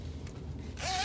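A zipper on a freshly sewn bag pocket is drawn closed in one quick, close, continuous zip near the end, after a moment of quiet handling.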